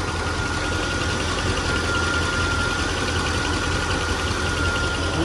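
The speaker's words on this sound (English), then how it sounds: "A little bit of a tick." A 1973 International Harvester pickup idles steadily after sitting 40 years, its low, even rumble carrying a slight mechanical tick, heard up close and alone for several seconds.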